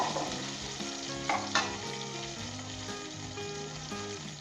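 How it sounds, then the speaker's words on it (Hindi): Boiled mutton goes into a pan of frying ginger and garlic, giving a steady close sizzle with brief bursts of stirring and spattering as the meat hits the oil. "अब हम इसके अंदर जो हमने बॉईल करके गोश्त रखा है ये डाल देंगे।"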